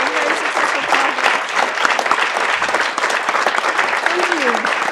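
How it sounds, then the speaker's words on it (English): An audience at a live software launch event (GATK4) breaks into a full round of applause, dense and sustained across the room, with a few voices calling out faintly beneath the clapping. "So let's give ourselves all a round of applause."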